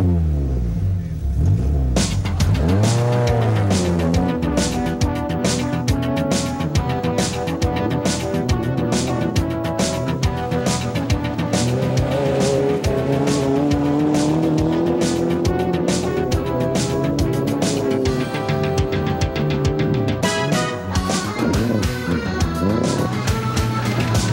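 A monster truck roars and revs continuously, its engine pitch rising and falling through shifts, with bursts of tire squeal and clattering over a steady, loud drive with no talk.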